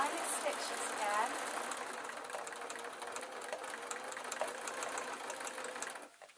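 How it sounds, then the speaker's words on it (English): A sewing machine stitching a quilt runs at a steady fast rhythmic whir for several seconds, moderately quiet and close, then stops abruptly near the end. "So I'm just sewing along that line of stitches again."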